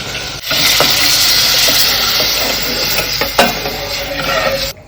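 Spices sizzle loudly in hot oil as vegetables are tempered in a pan, a close, continuous crackling hiss with occasional sharper pops and stirring clatter, and no talk.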